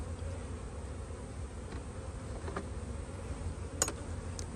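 Honeybees swarm and hum around an open hive outdoors, a steady, even drone throughout with a few brief faint ticks over it.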